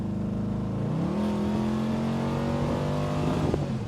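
The LS-swapped engine of a 1975 Buick LeSabre convertible revs up and holds with a deep, steady rumble, its pitch rising partway through. It is heard up close and alone.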